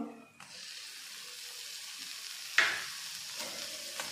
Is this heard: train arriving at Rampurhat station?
no